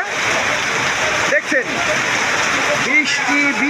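Heavy rain with wind in Mirpur, Kushtia, a steady loud downpour hiss filling the scene while someone talks over it briefly.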